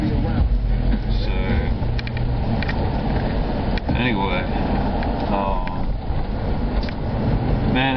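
A car drives along a road, its steady low road and engine rumble running continuously beneath someone talking throughout.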